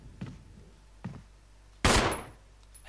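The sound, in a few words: gunshot in a video game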